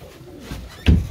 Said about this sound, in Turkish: Kuşlar 7 takla, 8 takla iyi oynayan kuşlar.